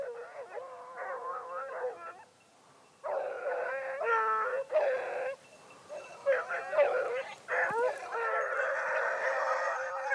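Hunting hounds give tongue on a hare hunt in the mountains, yelping, howling and baying in bursts that come and go, close and clear, with a short lull near the start.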